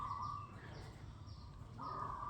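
Cockerels call in the distance around a house in rural Thailand, two drawn-out crowing calls at the start and end, faint over a steady outdoor background.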